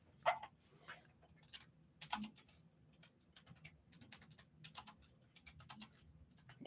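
A computer keyboard is typed on in quick, irregular bursts of light clicking keystrokes, faint and close, with short pauses between runs and no speech.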